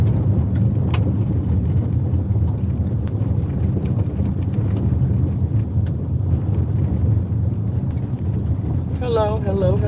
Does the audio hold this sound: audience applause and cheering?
no